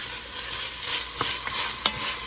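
Garlic stirred into onions cooking in a pan, a steady sizzle under a few soft scrapes of the spoon against the pan.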